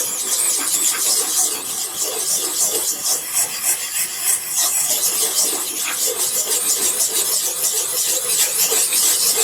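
A dull knife worked on a coarse aluminum oxide sharpening stone makes a close, continuous gritty scraping in rapid repeated strokes, steady in level throughout with no talking.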